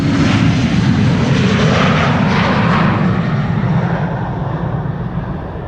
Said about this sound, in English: Another Embraer 190